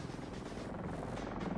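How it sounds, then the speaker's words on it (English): A flyable attack helicopter in a Godot 4 game, its rotor giving a steady low droning buzz that holds loud and even for the whole moment, with no talk over it. "I have two helicopters going."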